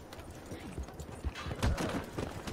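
Horse hooves clip-clop in Red Dead Redemption II, a steady run of soft, close hoofbeats over a busy game soundscape, growing louder partway through.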